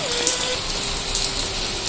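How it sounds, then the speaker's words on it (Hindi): Steady heavy summer rain hisses on surfaces nearby, a dense continuous wash with a faint hum in the background. "ये देखो कितनी तेज बारिश है।"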